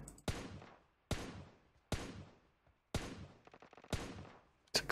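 Gunshots in PUBG Mobile's zombie mode, five sharp loud reports spaced about a second apart, each ringing out and fading before the next, with no talk.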